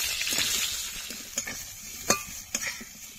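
Potatoes and pointed gourd fry quietly in a pan with salt and turmeric, a soft steady sizzle broken by a few spatula clinks and scrapes against the metal.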